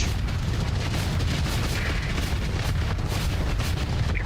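A weapon barrage fires in the space combat game Starsector, a dense, continuous roar of booming shots and bursts that stays loud and steady throughout.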